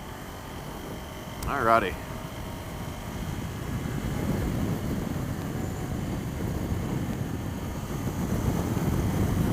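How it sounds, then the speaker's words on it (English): Gusty Oklahoma wind buffets a rider on a Ninja 400 motorcycle, a loud, continuous rumbling roar over the engine, with a brief spoken remark early on. "See that wind coming through right there? Yeah, wind. Oklahoma wind."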